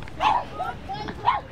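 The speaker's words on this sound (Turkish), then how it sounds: "Komşuların köpekleri Max'leri fark ettiler." Neighbors' dogs barking nearby, a few short yelping barks in quick succession, fairly close and moderately loud.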